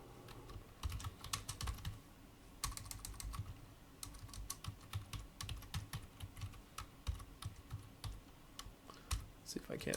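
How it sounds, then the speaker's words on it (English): Steady, fast typing on a computer keyboard while entering tasks for a project work breakdown structure, with rapid close clicks in bursts and short pauses; quiet talk is faintly present underneath. "See if I can't type a little better here"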